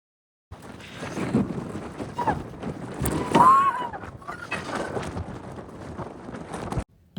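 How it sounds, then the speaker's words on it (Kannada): Strong wind buffets a hilltop viewpoint, a loud, continuous rushing roar against the microphone with gusts rising and falling, while a voice speaks faintly underneath. "ಎಷ್ಟು ಗಾಳಿ ಅಂದರೆ ಗಾಯ್ಸ್ ಅಷ್ಟು ಗಾಳಿ"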